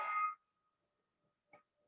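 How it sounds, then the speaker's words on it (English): A school bell at the end of class gives one short, bright ringing clang at the start. A faint second tap follows, then near silence. "Now the bell has gone."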